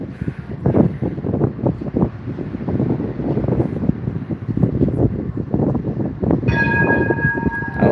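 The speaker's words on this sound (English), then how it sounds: "We've got another tram coming." A Melbourne tram rumbles past on Glenferrie Road with steady rolling and wind noise, and near the end its bell rings with a clear, ringing tone.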